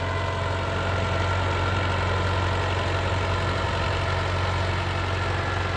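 An old Mahindra 575 DI farm tractor idles close by with a steady, heavy low diesel rumble and a faint knocking rhythm, continuous and loud throughout, with no voices.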